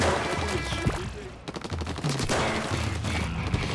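A Splattershot Jr. fires in Splatoon 3 with rapid, continuous bursts of wet, popping shots, loud and close over busy game sounds and music.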